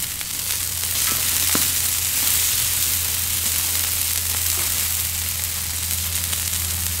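Churrasco meat sizzles steadily on a backyard grill, a close, continuous frying hiss with faint stirring and scraping, no talk over it.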